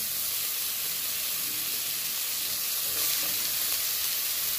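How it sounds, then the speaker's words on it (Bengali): Steady, dense sizzling of chopped onions frying in hot oil, a continuous bright hiss with small crackles throughout. "এবার আমি পেঁয়াজ কুচিগুলো দিয়ে দিচ্ছি তেলের মধ্যে।"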